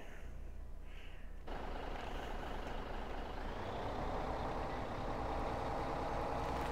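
Heavy truck engine idling and rumbling in Farming Simulator 17, joined after a moment by steady repeating reversing beeps over continuous game noise.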